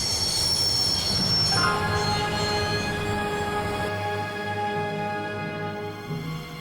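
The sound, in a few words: train stopping, wheels squealing, from video game Broken Sword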